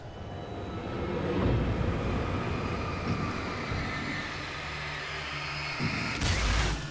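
Mine carts rolling in the video game Alan Wake, a loud continuous heavy rumbling roll with rattling that swells and ends in a sharp crashing burst.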